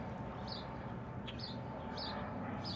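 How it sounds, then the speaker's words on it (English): Pet bird chirping indoors, a few short, faint high tweets spaced about half a second apart over a steady low background hum. "Oh, Bird, do you want to chip in too?"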